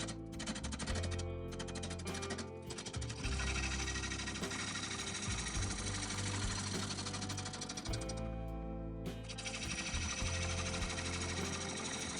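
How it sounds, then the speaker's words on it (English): A 3/4 inch bowl gouge cuts a birch burl bowl spinning on a wood lathe, producing a loud, continuous chattering, rattling cut with brief breaks where the tool lifts off, and no talking. "I'm going to try my 3/4 inch bowl gouge now."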